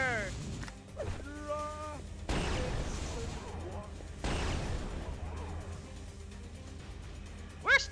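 Rocket launcher shots in Quake 2, two heavy blasts with booming explosive tails a couple of seconds apart, loud and close among game effects and brief tones, with a person speaking.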